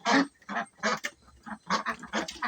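Several ducks quack close by in quick, uneven bursts, loud calls overlapping one after another with no other sounds between.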